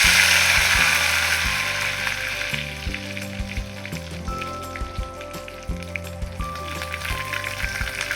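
Curry leaves dropped into hot oil for a tadka, a loud crackling sizzle that settles into a steady fry, with the low rumble and clatter of the pan underneath.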